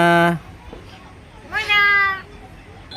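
A cat gives two distinct meows, the second longer and rising then falling, close and fairly loud, at a bird and pet market.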